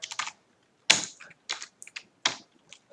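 Keystrokes on a computer keyboard come in short clustered bursts separated by brief pauses, close and fairly quiet, with no talking over them.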